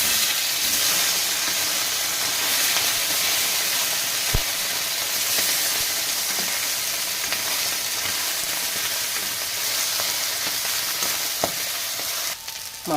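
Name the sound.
fish frying in a pan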